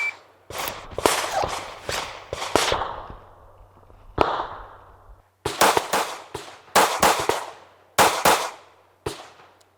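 Handgun shots fired at an outdoor shooting range, sharp loud cracks arriving in quick pairs and clusters with brief echoing tails, separated by short pauses.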